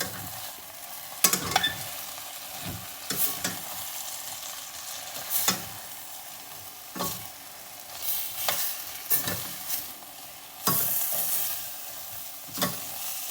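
Stuffed brinjals cook in hot oil with Kashmiri chilli powder for a Nellore-style curry. A constant sizzle runs underneath while repeated scraping strokes of stirring come through close and fairly loud, with no talk.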